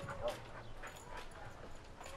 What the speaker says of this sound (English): Get the dogs out of my face.